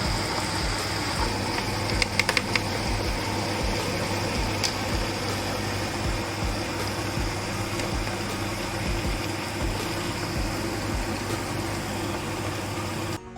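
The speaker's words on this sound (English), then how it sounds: "It will take about 15 minutes or so in the grinder, and it has to become a very smooth batter." A wet grinder blending soaked rice into smooth batter for sevai gives a continuous, even motor hum with a steady drone throughout, loud and close, with no voices over it.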